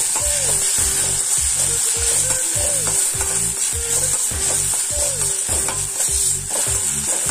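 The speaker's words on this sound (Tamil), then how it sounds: "புதினா இலை சேர்த்து ஒரு 30 செகண்ட்ஸ் வதக்கி விட்டதுக்கப்புறம்" Mint leaves and green chilli sautéing in a pan for a Thattu Vadai set snack, with a loud, steady sizzle broken by a regular rhythm of spatula scrapes and stirs, close and without any talk.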